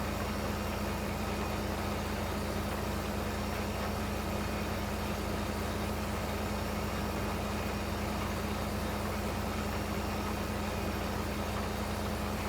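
A tractor engine in the Farming Simulator 15 video game drones steadily at an even pitch throughout, a constant mechanical hum with no voices over it.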